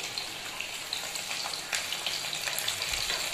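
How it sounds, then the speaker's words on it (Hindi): Potato poha triangles frying in a pan, a steady bright sizzle and crackle of hot oil with occasional spatters, close and alone without any voices. "और चम्मच से इसको अच्छे से फ्राई होने लेंगे"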